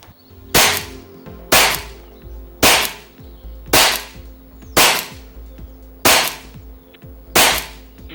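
Air Venturi air gun firing slugs, seven sharp, loud cracks spaced about a second apart, each with a brief ringing decay, over a low steady background hum.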